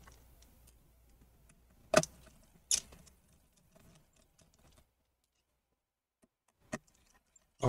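Screws being taken out of the back cover of a Dell Inspiron 7760 laptop, heard as a few sharp isolated clicks and taps, quiet and close, separated by stretches of near silence.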